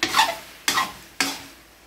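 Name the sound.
pork igado with green peas cooking in pan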